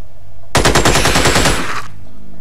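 A sniper's snapshot in the video game Xenonauts: a loud, close burst of rapid gunfire lasting about a second and a half, with individual shots blurring into a rattling stream, then a brief fading tail.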